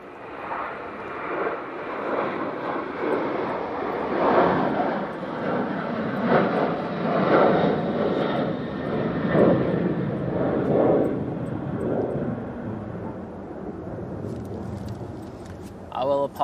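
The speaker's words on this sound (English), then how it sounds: "I can hear the plane taking off now" A Ryanair airliner roars down the runway on its takeoff roll, a loud, sustained jet rumble that swells and then slowly fades into the distance.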